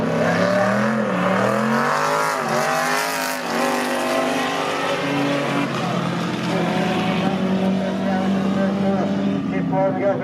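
Race cars roar along a dirt track at Whyalla, engines revving and shifting pitch continuously and loudly close by, with a commentator talking over them throughout.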